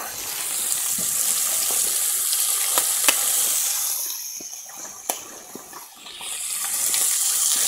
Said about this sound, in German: Dann gebe ich jetzt noch einen Tropfen Öl hier auf die Steaks.